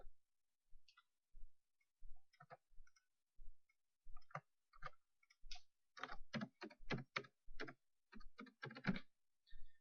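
Computer mouse clicks and keyboard typing while entering company and contact details into a software form: sparse isolated clicks at first, then a denser run of quick keystrokes, close and quiet with no talk.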